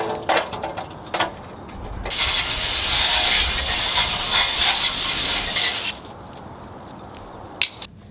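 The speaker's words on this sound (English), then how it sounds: "Let's give her a little rinse with the hose." A garden hose sprays water over a car's front subframe during a neglected Subaru STI rebuild, a steady close hiss lasting several seconds, framed by scattered clicks and clunks before and after.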